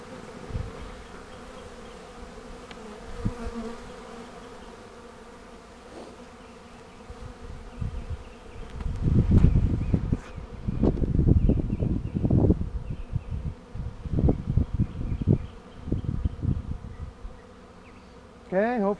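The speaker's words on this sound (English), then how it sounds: "Lots and lots and lots of bees." A dense swarm of bees buzzes continuously, growing louder and closer midway with bursts of intense droning, then easing off again.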